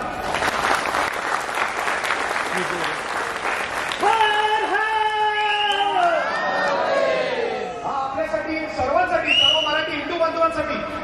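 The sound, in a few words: audience applauding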